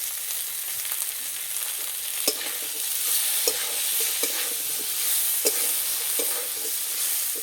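Ground spice paste and turmeric powder frying in a pan for a Bengali spinach-stem dish, a steady bright sizzle with intermittent stirring scrapes and clicks, close and continuous.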